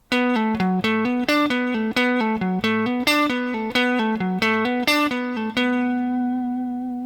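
Electric guitar plays a fast, steady legato run of hammer-ons and pull-offs, bright and distorted rock tone, ending on a sustained ringing note.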